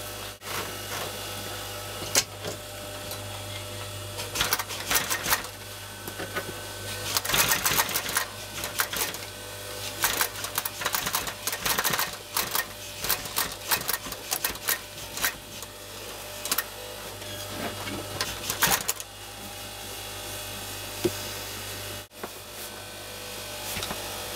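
A sewing machine stitches a seat back cover in rapid bursts of mechanical clatter separated by short pauses, close up over a faint steady hum.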